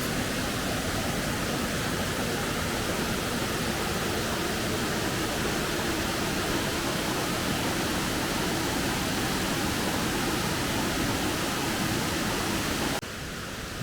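Waterfall in Kampar, Perak, a dense unbroken rush of falling water heard close and loud, steady for the whole stretch before cutting off abruptly near the end.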